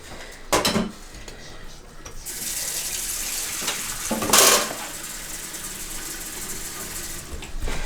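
Kitchen tap water running into a sink while a dish is set to soak, a steady splashing stream with sharp clinks of dishes and cutlery at the start and midway.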